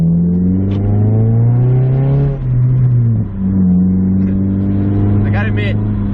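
A slow car's engine drones steadily as it drives off-road, rising and falling in pitch, with a brief dip and some scraping bumps as the underside scrapes; voices talk over it.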